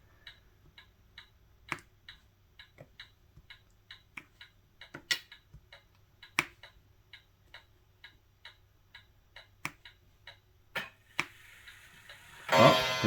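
An indoor clock ticks at a steady, even pace with occasional louder knocks, and a brighter, louder sound swells in at the very end.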